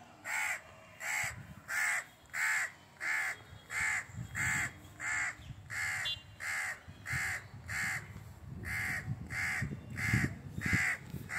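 A crow cawing over and over near a house railing, about sixteen harsh, evenly spaced caws close by and loud, with faint background rustle between them.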